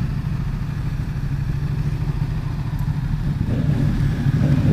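A Ducati XDiavel motorcycle in sport mode is ridden in Arizona, giving a steady low engine rumble mixed with wind noise throughout, with no clear revving changes.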